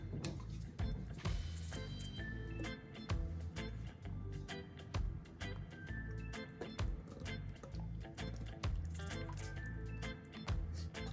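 Butter being worked into a Finnish baked pancake batter, a steady run of wet squishing and dripping strokes that continues close up without pause.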